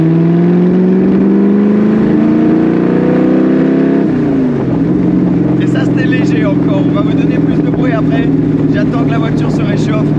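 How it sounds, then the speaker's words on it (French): An AC Cobra's V8 engine revs up, its rising harmonic note climbing steadily before settling into a loud, steady drone on a Corsican road, with voices talking over the engine. "c'est un bruit de V8. Et quand tu commences à monter un peu dans les tours"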